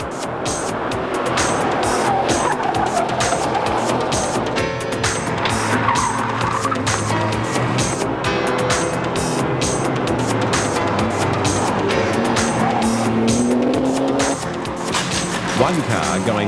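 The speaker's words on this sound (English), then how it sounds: "One car going faster than most expected, the Lotus Elise in the hands of up-and-coming Tasmanian driver Paul Stokel." Rally cars race on the 1999 Targa Tasmania tarmac event. A loud, continuous engine roar is broken by repeated tire squeals and skids as the cars pass close by.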